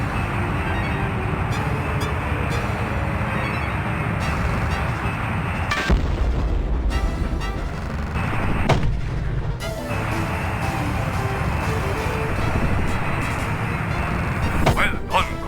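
Bombs exploding in a video game, a dense run of booms and blasts under continuous battle noise, with a sharp burst near the middle and talk over the din.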